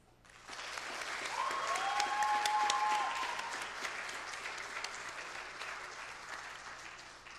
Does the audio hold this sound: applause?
yes